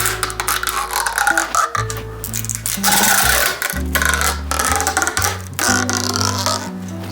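Tubeless rim tape, 21 millimeter wide, being stretched and pressed onto a bicycle rim, giving close sticky peeling and rubbing noises in irregular bursts with short pauses, no talking.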